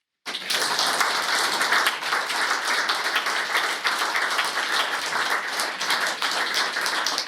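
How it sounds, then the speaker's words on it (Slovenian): An audience in the Glaser salon applauds at the opening of an Opus 6 concert, starting abruptly and sustaining a full, even clapping throughout. "uvodoma namenili še en aplavz"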